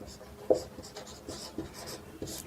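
Chalk or a pen writes a definition during an electricity lesson, producing faint, irregular scratches and taps in short strokes, close but quiet.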